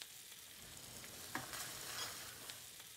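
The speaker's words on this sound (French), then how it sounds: "nous allons mélanger une dernière fois avant d'incorporer notre tomate" Vegetables being stirred in a pan just before tomato goes in, giving a faint, steady sizzle with soft scraping and a single light clink of the utensil midway.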